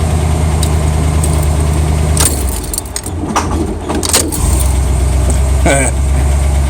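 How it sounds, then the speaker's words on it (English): A 1978 El Camino engine idles steadily with a low, even drone, joined by a brief key jangle, a short bump in the engine note and some voices in the background. "I cut the idle up just a hair."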